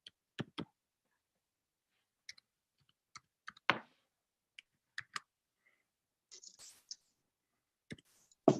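Sparse, irregular key clicks sound on a computer keyboard while an email is typed, with scattered single taps and short bursts separated by silence, close and fairly quiet.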